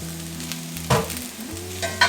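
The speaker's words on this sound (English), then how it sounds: "I'm going to go ahead and add in my mushrooms and my sugar." Mushrooms and sugar hit a hot pan and are tossed, giving a close sizzle with a couple of sharp scraping stirs over a low steady hum.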